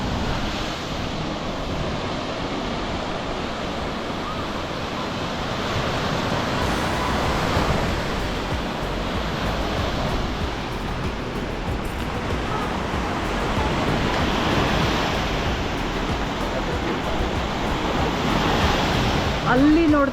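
Surf breaking on a resort beach with steady wind buffeting the microphone, a continuous broad roar with swells of louder waves rolling in and out across the whole stretch, no talk.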